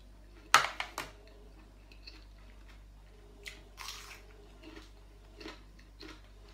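Crispy fried omelette being chewed up close, a burst of sharp crunchy bites at the start followed by quieter, scattered chewing and small mouth sounds.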